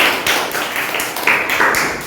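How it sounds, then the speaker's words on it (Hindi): Hand clapping in a classroom setting, a short run of sharp, close claps at an uneven rhythm, about five or six in two seconds. "तो ताली बजाओ"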